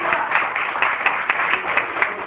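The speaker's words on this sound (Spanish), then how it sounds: "denle un aplauso al Señor" A congregation claps in praise during a church service, a steady run of sharp, even handclaps, close and fairly loud, with no speech over them.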